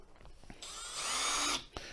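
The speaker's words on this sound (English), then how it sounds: "So we'll get this installed real quick with my Milwaukee drill" A Milwaukee power drill drives screws while a smart lock is installed on a door: a short tapping, then about a second of rising high-pitched motor whine that stops abruptly, close and alone.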